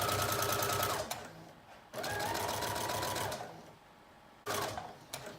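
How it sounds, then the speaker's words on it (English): Sewing machine basting the edges of a dress pattern piece with a long stitch, running in three close bursts separated by short pauses, each burst a steady rhythmic whir. "now we're just using a long stitch to baste all of the edges together, all the way around all sides of the pattern piece"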